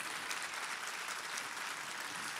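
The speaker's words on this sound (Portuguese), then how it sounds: "se é para dar salva de palmas, é para Jesus" A church congregation applauds, a steady wash of many hands clapping together, soft and somewhat distant, with no voices over it.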